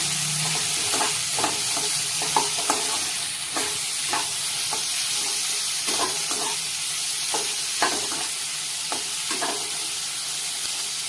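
Onions and dried red chillies are sautéed in a pan for a chicken dish: a steady loud sizzle runs throughout, punctuated by a dozen or so scraping stirs of the spoon at an uneven rhythm, with no talk.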